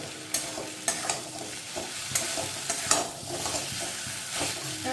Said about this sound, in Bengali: পোস্ত বাটাটা দিয়ে ভালো করে নেড়ে মিশিয়ে নেব